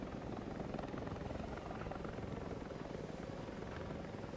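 A helicopter in the video game War Thunder, a steady continuous rotor and engine drone at constant pitch, quiet and alone without speech.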